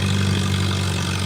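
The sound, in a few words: tractor engine idling at antique tractor pull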